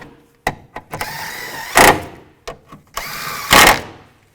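A power tool on a 2008-2017 Buick Enclave engine, tightening bolts during a coolant temperature sensor replacement: short clicks, then two loud whirring bursts close by, with quieter rattles between them.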